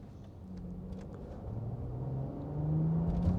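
From inside the cabin of a 2023 Rolls Royce Ghost, a smooth, subdued engine hum rises in pitch and grows steadily louder during acceleration, with faint road rumble beneath.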